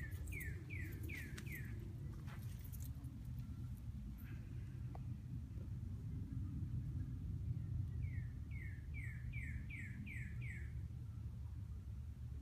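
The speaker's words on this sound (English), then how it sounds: "that is a real bird in the background" Two bursts of quick, descending bird chirps, one early and a longer run later, sound clearly over a steady low hum of background noise.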